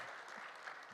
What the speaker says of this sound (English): We can give him another round of applause, please, until he gets here.